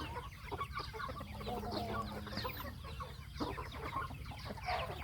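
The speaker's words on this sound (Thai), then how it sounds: "ไก่รุ่นชุดนี้ติดสายนินจาทั้งหมดนะครับ" Burmese gamecocks kept as breeding stock on a Thai farm cluck and chatter continuously, with overlapping calls from several birds at moderate distance and a brief crow-like note partway through.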